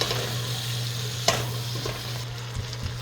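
Onions, tomatoes, spices and guajillo chiles sizzle steadily in a hot pan for birria, a dense even frying hiss held close with one sharp stir or scrape partway through and a couple of soft knocks near the end.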